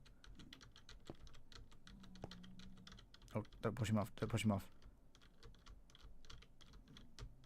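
Rapid keyboard typing clatters steadily close by, with a speaking voice that breaks in over the keystrokes for a moment midway.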